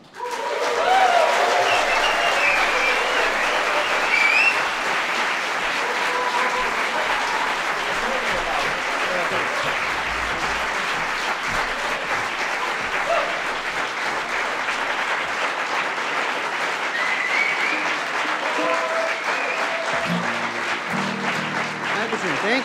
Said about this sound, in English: aber jetzt dürft ihr donnernd applaudieren